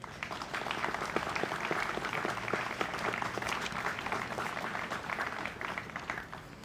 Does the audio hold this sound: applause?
yes